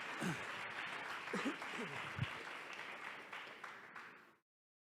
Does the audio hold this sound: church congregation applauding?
yes